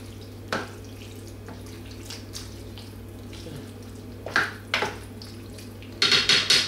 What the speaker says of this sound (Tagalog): Haluin lang natin maigi para pantay ang timpla.